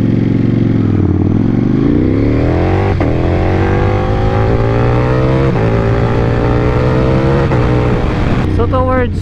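A Ducati Panigale V4S with a 1,103cc engine roars while being ridden, its pitch climbing through rising revs and gear changes, loud and close against rushing wind.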